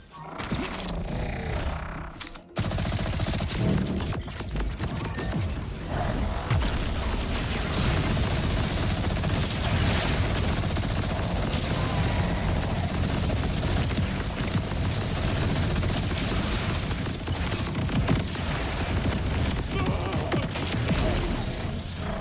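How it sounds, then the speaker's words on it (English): Continuous, dense automatic gunfire from the Bullet Buddy Deluxe gun in Borderlands, loud and sustained without pause after a brief initial burst, forming a steady wall of shots. "You can see I was just shooting endlessly"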